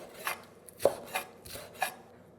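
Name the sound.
knife cutting food on an angle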